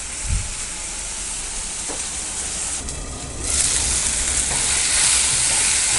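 Biryani masala with tomato, mint and green chilies fries in oil in a pan, a close, continuous sizzle and hiss that swells louder partway through, with stirring and no voices.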